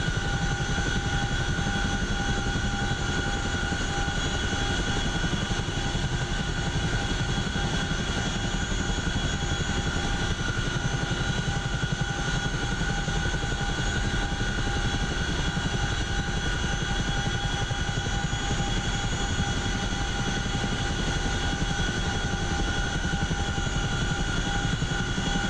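A CH-47F Chinook helicopter in the DCS flight simulator, flying near a heliport south of Herat, gives a continuous dense rotor and turbine roar with steady whining tones, unchanging and loud throughout.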